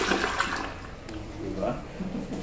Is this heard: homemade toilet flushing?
yes